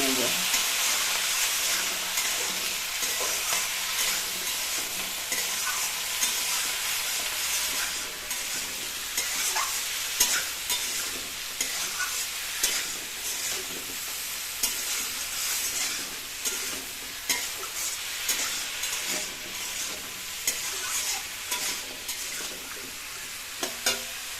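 Ingredients for a prawn malai curry with kohlrabi and flat beans, seasoned with turmeric and salt, fry in a pan with a continuous hissing sizzle, punctuated by frequent light stirring clicks, heard up close without talk.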